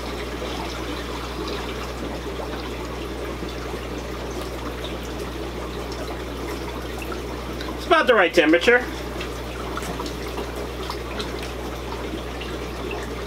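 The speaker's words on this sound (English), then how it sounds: "we'll fill it up with my little water spigot here" Tap water runs from a small spigot into a betta fish tank, a low steady trickle throughout with a brief louder splashing burst partway through, while someone talks quietly over it.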